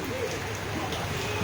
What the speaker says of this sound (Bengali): এই মুহূর্তে মুষলধারে বৃষ্টি হচ্ছে